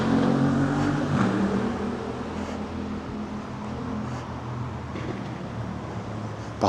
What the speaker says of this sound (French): Pardon, il y avait un bruit de moto.